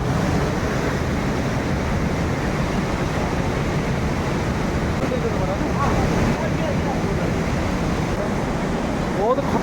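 Water roars steadily through opened dam gates, loud and continuous, with wind buffeting the microphone and people talking faintly underneath.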